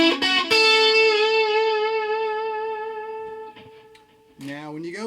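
An electric guitar played through an Ibanez TS10 Tube Screamer boosting a Marshall JTM45 rings out in sustained, overdriven chords that slowly decay, followed by a fresh strum near the end.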